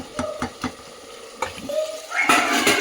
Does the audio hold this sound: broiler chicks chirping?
no